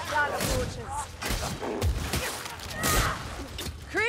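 Gunfire from a crude firearm in the Warhammer Vermintide game, several sharp cracks and thumps scattered across the moment amid busy combat noise, with a voice speaking over it.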